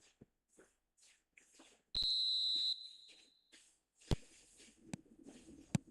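A single shrill referee whistle blast, roughly a second long, starts the match in the eFootball football video game. It rings out sharply over an otherwise quiet background with scattered faint clicks and taps.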